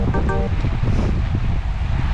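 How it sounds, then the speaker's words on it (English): Steady, blustery wind rushes across the microphone while riding a bicycle in a drafting position with a crosswind from the left, a continuous low roar with gusty buffeting and no voices. "The wind is coming a little from the left."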